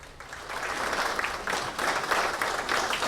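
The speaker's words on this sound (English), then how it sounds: "A round of applause is in order." Audience applause at a free community resource fair, a steady broad wash of many hands clapping that stays loud and fairly even throughout, with no talk over it.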